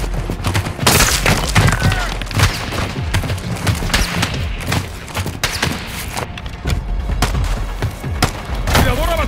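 Sniper and other gunfire in Call of Duty Modern Warfare II during a fight with a Mexican cartel: dense, irregular volleys of loud shots and heavy booms follow one another almost without pause across the full length.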